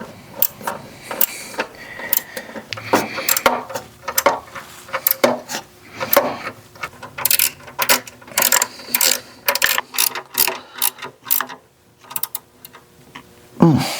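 A hand ratchet clicks in quick bursts while tightening the catalytic converter heat shield bolts on a 2011 Ford Fiesta, close and sharp, with short pauses between the runs of clicks.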